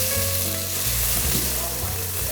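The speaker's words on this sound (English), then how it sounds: "There's a little bit of oil, a little bit of parsley, the smell, and everything is sizzling in there" Porcini mushroom soffritto with parsley sizzling in olive oil in a home kitchen in Calabria, Italy: a steady, close, dense frying crackle throughout with a low background hum, no talking.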